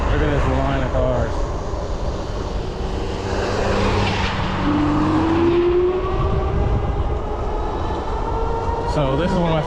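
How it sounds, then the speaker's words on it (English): A line of cars drives past near an industrial park. Their engines and tyres make a loud, continuous rushing roar that swells and fades as each vehicle passes, with a rising engine tone midway. "Look at this line of cars."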